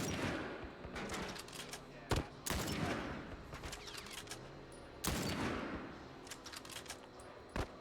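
Enemy gunfire in The Last of Us, sharp bursts of shots cracking out in uneven volleys over a busy, noisy game soundscape, with loud spikes near the two- and five-second marks.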